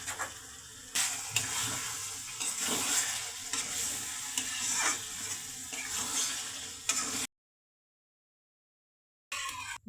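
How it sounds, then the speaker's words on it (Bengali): Spice paste with small tomato pieces and a little sugar sizzles steadily in a hot pan while being stirred, with scraping strokes for about seven seconds before a brief silence and a final burst of frying. "মশলাটাকে ভালো করে কষে নেব।"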